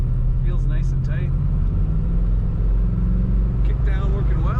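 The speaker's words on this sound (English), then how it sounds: "Mostly stock sounding truck, a little bit of rumble there, which sounds good" Engine rumble from a mostly stock 1990 Chevrolet Blazer 4x4 heard from inside while driving, a steady low droning growl with road noise that holds evenly throughout.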